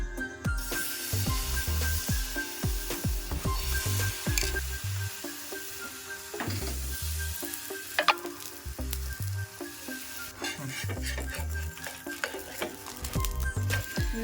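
Beaten egg poured onto a hot oiled pan for an egg potato patishapta, sizzling and frying loudly and steadily with scattered crackles and stirring scrapes throughout.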